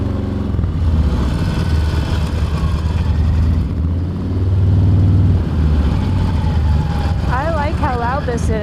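A loud Harley-Davidson motorcycle engine rumbles steadily while riding on a road, its deep drone swelling and easing with the throttle, with a brief high chirping sound near the end.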